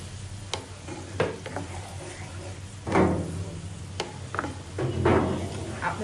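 Spices, coriander powder and cumin are being sautéed in a pan, heard as scattered sharp taps and scrapes of a spoon over a soft background sizzle, fairly quiet and without talk.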